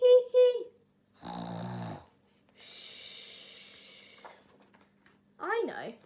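A storyteller's voice imitates snoring in a children's story: a few exaggerated snorting inhales and long wheezy exhales, then a sharp vocal squeal, all close and clear.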